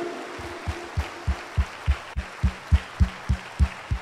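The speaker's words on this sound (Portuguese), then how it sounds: "Dê uma salva de palmas para o Divino Espírito Santo." A church congregation at a Sunday Easter-season Mass claps in a steady, rhythmic beat, about three claps per second, a series of fairly loud, even pulses with no one speaking.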